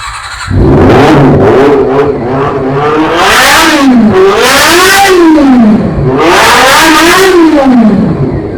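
A Honda sports motorcycle in Karachi starts up loudly and close by, then revs again and again in rising and falling sweeps of its engine note, several sharp throttle blips in a row, with no talk.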